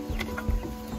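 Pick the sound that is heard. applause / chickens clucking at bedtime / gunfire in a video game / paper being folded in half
chickens clucking at bedtime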